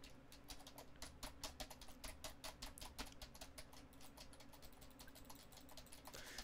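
Rapid, uneven clicking of fingers typing on a computer keyboard, steady keystrokes close to the microphone and fairly quiet, with no voice present.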